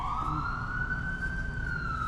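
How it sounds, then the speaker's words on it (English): An ambulance siren passes on a busy road with one long, slowly rising and falling wail over low traffic rumble, fairly distant and steady. "This ambulance going by. That's what happens when you live on a busy road"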